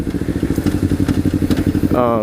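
A motorcycle engine in third gear throbs loudly and close in a fast, steady pulse, heard without a helmet, shifting into a higher whine near the end.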